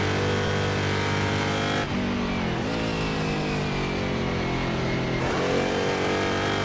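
A historic Corvette race car engine in Assetto Corsa, racing at Riverside, drones loud and steady, its pitch climbing and dropping sharply at two gear changes.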